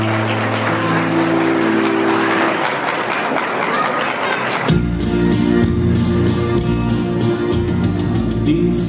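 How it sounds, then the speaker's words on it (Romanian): Wedding guests clap for a couple's first dance, a dense, steady wash of applause that lasts several seconds before music takes over partway through. "Hai să mai încurajăm, doamnelor și domnilor, cu aplauze."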